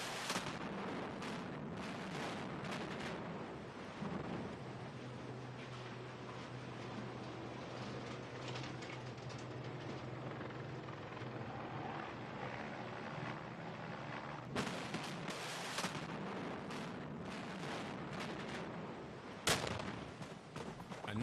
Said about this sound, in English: The explosion looked fabulous.